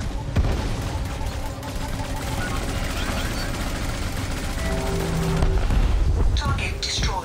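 Combat in the Elite Dangerous video game against Guardian sentinels: dense, continuous bursts of weapon fire and booming impacts, loud and sustained, with a voice speaking over the action.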